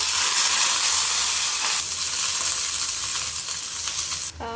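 Curry leaves and onion frying in a pan give off a loud, steady, hissing sizzle that continues without a break, with a faint scrape of stirring near the end.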